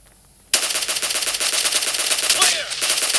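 Sustained rapid automatic gunfire from a blue-skinned gun in a multiplayer shooter video game bursts in suddenly after a quiet moment, loud and continuous with no pauses.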